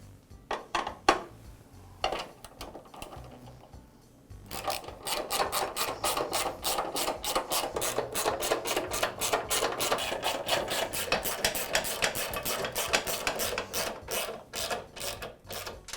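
Bolts are tightened on the brackets of a DeWALT miter saw stand with a ratcheting tool. A few scattered clicks and knocks come first, then a long, fast run of close ratchet clicks, loud and alone.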